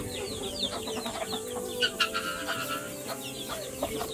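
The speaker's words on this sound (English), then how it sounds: "Let me show you the guinea fowl." Guinea fowl clucking and calling inside their cage, a steady cluster of busy, overlapping bird calls close by with no talking.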